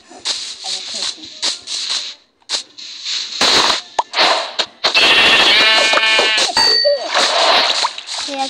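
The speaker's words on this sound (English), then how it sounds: "I peek. I see sheep." Minecraft sheep bleats repeat among dings and clanks, with a person talking over parts of it.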